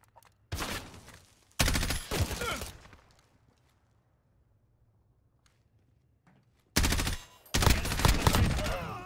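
Game gunfire from an MP5 chambered in 10mm in Modern Warfare (2019), heard as two loud dense automatic bursts, a quiet gap with faint background, then two more sustained bursts near the end.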